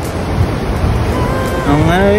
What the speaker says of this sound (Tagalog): So malaki kasing alon.